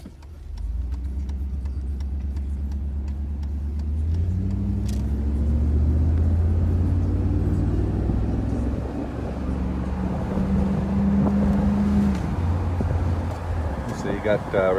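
Mercedes R129 500SL with a muffler delete cruises with the top down, its engine exhaust a steady deep rumble that swells as it accelerates and drops in pitch between gears.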